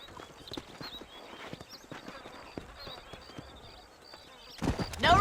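Horse hooves clip-clop in Red Dead Redemption, irregular thuds of a ridden horse near Armadillo, fairly close, under talk, with a louder burst of movement at the end.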